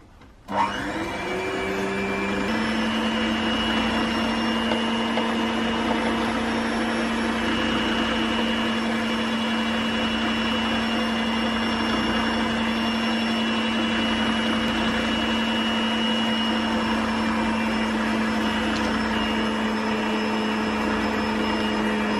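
An electric mixer runs steadily while flour is worked into cupcake batter, a loud continuous whir with a steady hum that holds unbroken after a short start-up.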